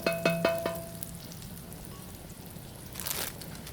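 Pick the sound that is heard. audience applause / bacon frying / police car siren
bacon frying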